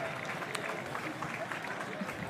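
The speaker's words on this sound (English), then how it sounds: "Another group just getting clapped across the line there" Scattered clapping from roadside spectators as a group of cyclists crosses the finish line at a women's UCI Pro Series stage race in Steinfort, faint and distant over a soft crowd murmur.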